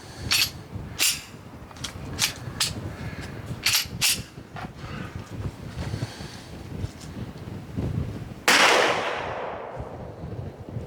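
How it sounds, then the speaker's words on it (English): Several sharp pistol shots from a Smith & Wesson M&P 2.0 Metal crack outdoors at irregular intervals amid wind noise, followed by a louder, longer burst of rushing wind or blast noise near the end. "Very first shots."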